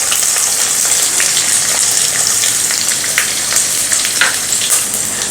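Mustard seeds, cumin, curry leaves, two dried chillies and onion tempering in hot oil for jowar idli, giving a loud, continuous bright sizzle with crackling pops throughout, no speech.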